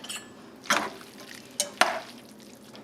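Spaghetti carbonara with egg and starchy pasta water is stirred around a pan, giving soft wet scraping and a few sharp utensil knocks against the metal, close and fairly quiet with no talking.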